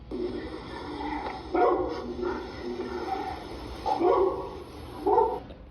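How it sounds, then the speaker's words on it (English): Several dogs bark in short, repeated bursts over a steady background hiss, somewhat distant and muffled, with a few louder barks rising out of the noise. "There's dogs barking."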